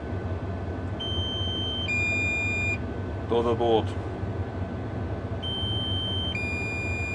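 An electronic alarm on a logging site in freezing weather beeps as its power runs low, giving repeated two-tone bleeps in two bursts over a low background rumble, with a brief voice between them.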